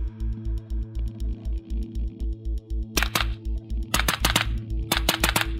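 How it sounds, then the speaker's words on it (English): Nine-millimetre rounds from an Angstadt Arms UDP-9 pistol on an outdoor range crack off in a steady rhythm, about a dozen sharp shots at an even pace, with brighter, louder bursts of reports toward the end. "Let's put some rounds down range and get into the video."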